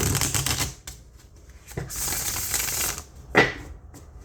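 A soaked tarot card deck is riffle shuffled and bridged, giving a crisp fluttering rattle of cardstock, then a second burst and a short snap as the cards settle, close and distinct.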